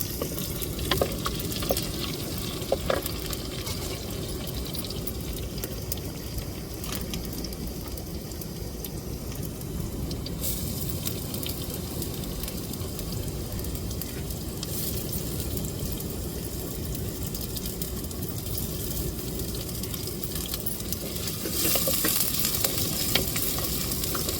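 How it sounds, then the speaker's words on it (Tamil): Seven cloves of finely chopped garlic fry in oil for a sala fish curry with raw mango, giving a continuous close sizzle with occasional stirring clinks and a louder spitting burst toward the end. "பூண்டு வந்து ஒரு ஏழு பூண்டு எடுத்து நான் பொடிச்சு பொடிச்சாக கட் பண்ணி வச்சுருக்கேன் அதையும் எண்ணெயில் போட்டு வதக்கி விட்டுக்கிடுவோம்"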